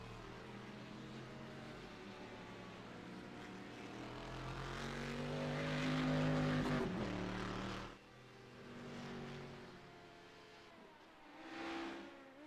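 LMP2 race cars howl around Daytona in a sports car racing series, with high-revving engines rising to a loud pass-by in the middle and then dropping back, followed by another car surging past.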